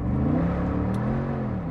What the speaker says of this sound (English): it's mainly that burbling V8 exhaust